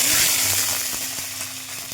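Green chilies frying in hot oil for ivy gourd chutney, a steady close sizzle with scattered small pops and crackles throughout.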